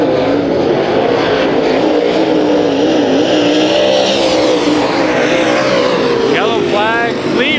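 Race cars roar around the 3/8 mile Kings Speedway during heat races, a loud, continuous engine drone that swells as the field passes, heard beneath an announcer's commentary.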